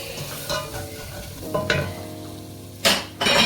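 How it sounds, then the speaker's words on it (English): Spices cooking with onions, ginger and garlic for beef pilau rice sizzle steadily in a pot, with a few sharp scrapes and clanks of a stirring spoon, the loudest near the end. "So we cook all the spices together with the onions and the ginger and garlic."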